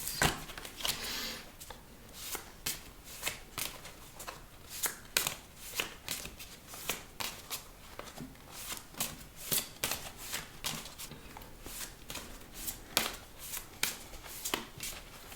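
Tarot cards are shuffled close up at a low, intimate level, with a steady run of soft riffling slaps and flicks repeating through the whole stretch and no talking over them.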